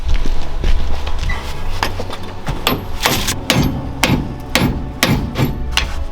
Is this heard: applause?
no